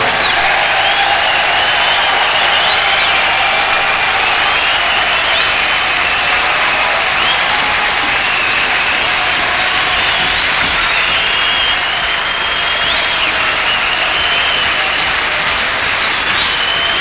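A large audience at a live blues-rock concert claps and cheers in a dense, steady roar of applause with scattered whistles and shouts, loud and sustained throughout.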